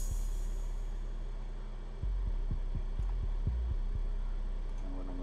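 Deep bass line in an electronic beat produced in Maschine 2, a sustained loud low rumble with rhythmic kick-like thumps pulsing through it, no voices.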